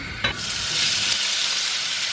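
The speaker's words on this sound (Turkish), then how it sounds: "Şimdi bunları karıştıra karıştıra kavuracağız diye güzel." Carrots stir-frying in a little oil give a loud, steady sizzle with a sharp stirring scrape near the start, no one speaking over it.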